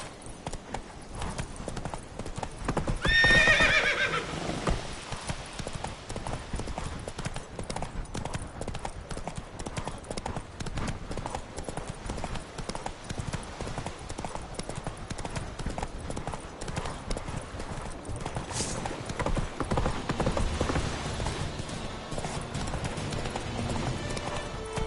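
Horse hooves clip-clop at a steady gallop in The Witcher 3 video game, rhythmic and continuous, with a neigh near the start and game ambience underneath.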